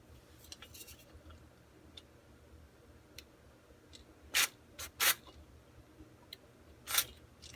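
Spray is put into the cylinder of a 74-year-old mini steam engine during repair: three short, bright hisses of spray burst out over faint ticking and clicking, with no talk.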